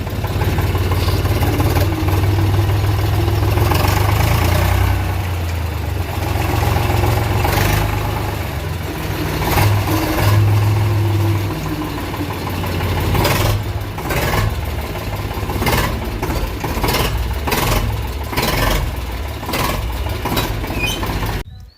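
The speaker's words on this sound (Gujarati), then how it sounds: "હવે આપણે ટ્રેક્ટર લઈ લઈએ અંદર." A tractor engine idling nearby, a steady low rumble that runs throughout with small surges and rattles, fairly loud, with no talking over it.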